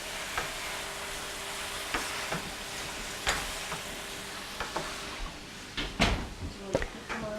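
Two spoons stir-fry a big batch of Pad Thai noodles in a pan, giving soft sizzling and scattered scraping clicks that grow busier toward the end, heard close with faint voices in the background.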